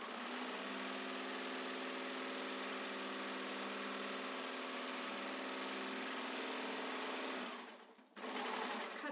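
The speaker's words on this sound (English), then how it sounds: "My next step is to take this over to the serger, and I'm going to serge both of the long ends" A serger runs continuously, close and steady, while stitching the long 9-inch edges of fabric for a face mask. It stops briefly near the end, then starts up again.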